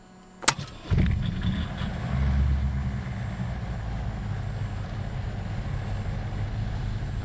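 A Diamond DA62's left engine starting in the Prepar3D flight simulator: a sharp click, a brief starter whine, then the engine catches and settles into a steady, moderately loud idle drone that continues alone.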